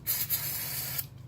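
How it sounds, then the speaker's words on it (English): A short hiss of brake cleaner sprayed onto a cloth, two quick bursts close by, then a sharper spurt at the end, with no talking. "I'm going to spray a little bit of this brake clean"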